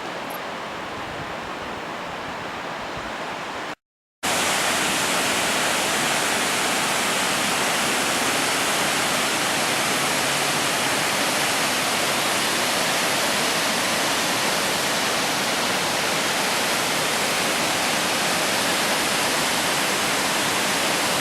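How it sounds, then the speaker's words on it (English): Tempesta Falls in Tallulah Gorge, a steady roar of rushing water heard close and loud, with a brief gap near the start before the constant wash returns. "What you're looking at is the top of Tempesta Falls here at Tullulah Gorge Falls State Park."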